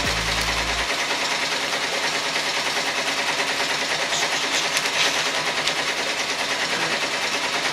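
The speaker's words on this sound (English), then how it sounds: "The last embroidered shirt is on the machine." An embroidery machine stitches a shirt nearby, a loud continuous mechanical whir with a fast needle rhythm running throughout, joined at the start by a short low hum that soon drops away.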